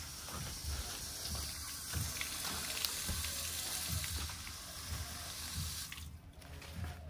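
Water gushes from a garden hose in a backyard vegetable garden, a steady close splashing hiss that fades out near the end, with no talking.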